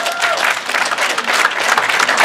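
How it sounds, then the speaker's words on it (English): Audience at a veterans panel at a cannabis cup event in Clio, Michigan, breaking into dense, continuous applause that fills the room, loud and sustained with a few cheers mixed in. "Can I get a round of applause for that?"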